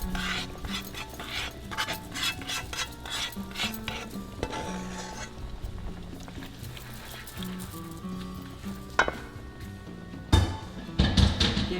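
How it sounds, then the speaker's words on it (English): Creamy jerk chicken rasta pasta gets stirred in a pan, with scraping and clinks of a utensil against the metal, soft bubbling underneath, and a few louder knocks near the end. "Give this a nice stir."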